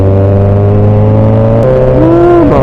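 A Kawasaki Ninja 1000SX's engine drones loud and close while riding, holding a steady tone before shifting pitch and climbing again toward the end, with wind rush around it.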